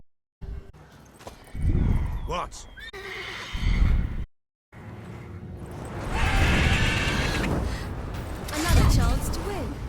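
A mare in the game Witcher 3 whinnies loudly and close, with hoof clip-clop nearby and in-game voices talking around and over the neighing.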